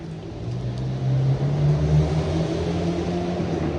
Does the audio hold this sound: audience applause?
no